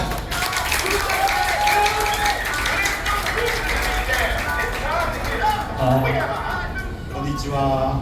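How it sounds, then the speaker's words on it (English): Audience applause at the opening of a second Karayama branch at One Ayala Malls in Makati, Philippines, welcoming a guest from Karayama Japan; steady clapping throughout, mixed with crowd chatter and some background music. "please give him a round of applause"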